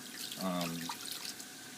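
Tap water running into a bowl while sushi rice is rinsed, a faint splashing trickle with a brief gurgle near the start, quiet and close, with no voices.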